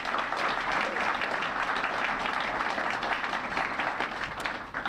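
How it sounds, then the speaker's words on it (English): Audience at an Asian Pacific American Heritage Month ceremony applauding: a steady, even round of many hands clapping, moderately distant, with no speech over it. "So let's please all give them a big round of applause."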